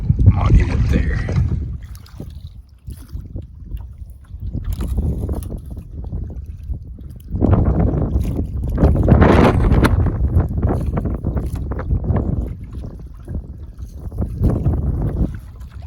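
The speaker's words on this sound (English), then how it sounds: "Pretty windy" Wind buffeting the microphone on a river survey by kayak, low rumbling gusts that rise and fall throughout, strongest in the middle, with faint water sounds beneath.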